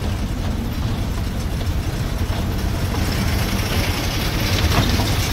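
A small train runs at the Howrah Rail Museum, giving off a continuous, loud, even rumble of wheels and engine noise with no distinct beats.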